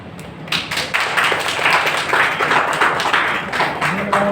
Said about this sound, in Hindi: ताकि तालियों की गड़गड़ाहट से ये गूंज उठे दरौदा की धरती।